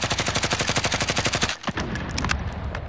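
Automatic gunfire in Call of Duty: Modern Warfare, a rapid, evenly spaced burst of loud shots for about a second and a half, then a brief gap and scattered impacts and battle noise.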